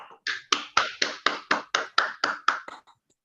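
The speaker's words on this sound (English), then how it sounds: "please unmute and give a loud applause" One person claps about ten times in an even rhythm, close to the microphone in an online Toastmasters club meeting. Each clap is sharp and distinct with short gaps, then the clapping trails off and stops.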